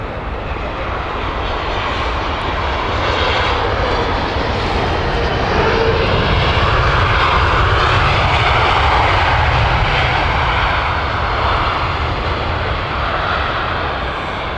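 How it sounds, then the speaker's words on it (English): The Edinburgh-flight airliner at London Heathrow Airport, a loud, continuous jet-engine roar close by, rising slightly and holding steady without a break. "Here is the Edinburgh flight."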